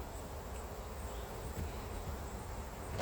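Honey bees buzz around a hive being smoked during a honey harvest, a steady dense hum that is fairly quiet and continuous over a low outdoor rumble.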